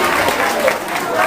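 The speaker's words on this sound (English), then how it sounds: "Please clap for him," School assembly crowd clapping for a newly named dormitory prefect, loud and sustained applause from many hands with a little crowd noise mixed in.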